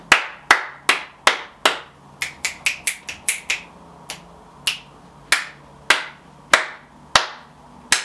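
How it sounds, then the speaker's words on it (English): Sharp hand claps ring out one after another in uneven rhythm, each followed by a noticeable echoing tail from a reverberant room. "these are probably not the best circumstances for sound recording in this room because of quite a strong reverberation"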